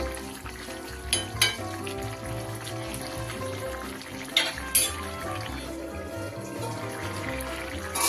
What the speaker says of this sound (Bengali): মাছটা দিয়েও আবার দু তিন মিনিট আমি ফুটিয়ে নেবো